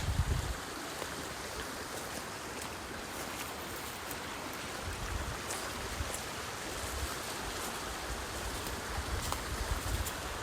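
A village river rushes in a broad, steady wash of water, constant and fairly close, with occasional low gusts and no voices.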